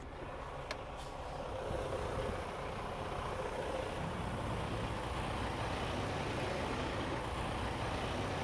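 A truck engine idles steadily after a restart while its air brake system rebuilds pressure during a CDL test, a continuous low rumble with a faint hiss, fairly loud throughout.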